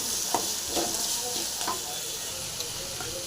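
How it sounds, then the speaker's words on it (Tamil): Tomato and ginger masala frying and being stirred in a pan for a Tamil brinjal gravy, a steady close sizzle with a few scraping stirs and no talking. "தக்காளி மசி வரைக்கும் நல்லா ஃப்ரை பண்ணிக்கலாம்."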